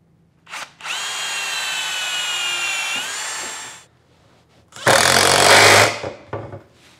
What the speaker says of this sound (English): So we're just going to drill some pilot holes.